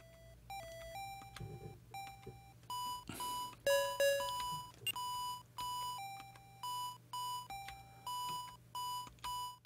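Repeated electronic beeps from a ColecoVision video game, a run of short tonal bleeps and longer held tones at shifting pitches, fairly loud and steady in rhythm over a low background hum.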